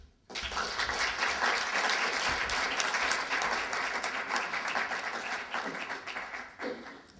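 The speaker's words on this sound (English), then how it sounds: "Let's give us another round of applause to all the speakers" A conference audience at the Thomas Sankara Annual Conference claps in a full, sustained round of applause after a speech, starting abruptly and staying dense and loud for about six seconds before tapering off.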